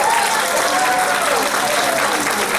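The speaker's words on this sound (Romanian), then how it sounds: "Să-l aplaudăm!" An audience at a folk concert anniversary show applauds steadily, a dense continuous wash of clapping that fills the whole moment.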